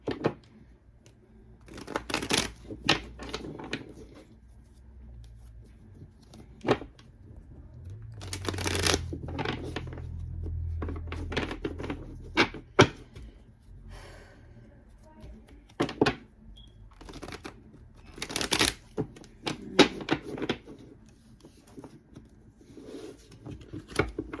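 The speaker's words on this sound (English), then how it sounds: "I'm gonna do a little bit of shuffling." Tarot cards being shuffled by hand in repeated bursts of crisp riffling and flicking, close and moderately loud, with quieter pauses and soft handling sounds between them.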